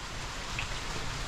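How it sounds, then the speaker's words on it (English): Steady rain falls while a person shelters beneath a cellar overhang, with water running off; a dense, continuous close hiss of rainfall with no talk. "I'm underneath a cellar, underneath my brother's cellar, sheltering from the rain."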